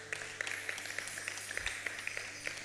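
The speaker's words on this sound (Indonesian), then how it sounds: "Tepuk tangan yang meriah untuk Tuhan." A church congregation applauds during a Sunday worship service, a steady wash of many overlapping hand claps with scattered sharper slaps, heard at a distance and fairly soft, continuing evenly for a few seconds with a low hum underneath.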